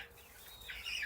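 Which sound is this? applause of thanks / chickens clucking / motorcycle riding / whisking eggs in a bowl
chickens clucking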